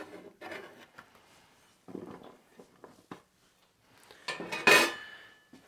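A knife slices cucumbers on a cutting board, giving a series of soft, uneven taps and thuds at close range, with a louder clatter of board or utensils near the end and no talk.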